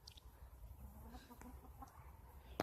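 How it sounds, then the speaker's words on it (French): A silkie rooster and hen cluck softly and intermittently nearby, low-level farmyard chatter with a brief sharper note at the end. "Mon coq soie, ma poule soie."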